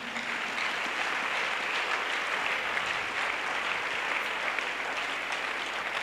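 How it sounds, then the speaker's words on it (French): Sustained applause fills a large crowd at an evangelistic crusade meeting, a dense, steady wash of clapping that holds at full strength throughout without a break. "Clap for him."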